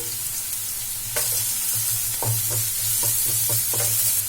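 Chopped onions and grated carrot sautéing in a pan for a bread snack, a constant sizzle broken by a run of rhythmic spatula scrapes and taps in the second half, close and fairly loud.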